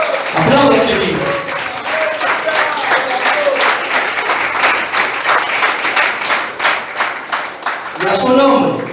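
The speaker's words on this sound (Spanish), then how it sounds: "Aplauda que vive. Aplauda que vive." A church congregation applauds loudly and continuously through a worship service, with dense clapping from a large crowd and a preacher's voice calling out over it at the start and end.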